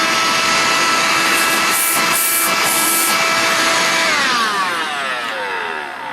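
A BISSELL Pet Hair Eraser 94V5A handheld vacuum runs loud and close with a steady whining roar, its pitch sliding downward as the motor winds down near the end.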